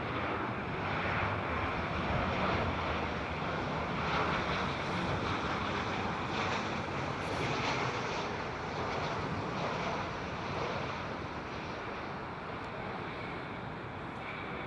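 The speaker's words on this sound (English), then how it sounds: "It's a 737-800 in it. KLM, one of their older jets," A KLM Boeing 737-800 with CFM engines at Heathrow gives a steady, loud broadband jet roar that holds for the whole stretch, with a gusty, windy wash and no voices.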